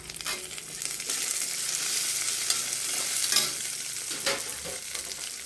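Green and dried chillies fry over a low flame for tempering, with a steady close sizzle and crackle and occasional spatula stirs and bursts, with no voice.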